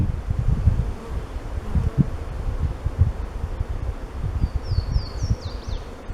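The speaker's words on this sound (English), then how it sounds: "Let's get some of these bees out of the way" Honeybees buzz low and close around an open beehive while frames are handled, with rustling and handling noises under the hum and a few brief higher chirps near the end.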